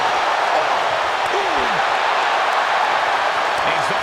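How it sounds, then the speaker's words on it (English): Arena crowd in the wrestling video game WWE 2K25, a dense, steady roar of cheering and applause filling the whole stretch, loud and unbroken. "Listen to this crowd driving these competitors to leave everything out in the ring."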